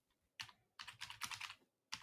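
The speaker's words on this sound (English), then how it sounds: "you're just hearing me typing to something" Fingers tap on a computer keyboard in quick, uneven bursts of keystrokes separated by short pauses, close and quiet in a still room.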